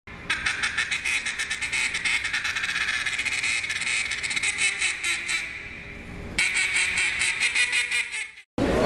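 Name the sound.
duck call imitating duck quacks at calling contest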